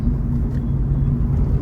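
A family car travels on the highway from Pune to Dahisar, with a steady low road rumble and engine drone filling the cabin throughout and no other sounds standing out.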